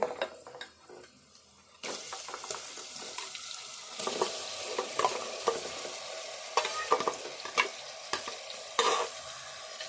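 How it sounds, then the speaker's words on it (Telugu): Goat head meat fries and gets stirred in a pan with garlic, onion and fenugreek leaves, giving a steady sizzle broken by repeated scraping and clattering stirs, close and clear, with no talking. "ఇప్పుడు ఇదంతా ఇట్లా వేగాలి ఎల్లిపాయలు ఉల్లిపాయలు మెంతి కూర కూడా ఇట్లా వేగినాక"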